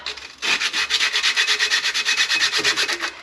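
Hand sanding the inside of a car strut assembly part during a front shock replacement, a quick, regular back-and-forth rasping scrape repeated about twenty times, close and alone.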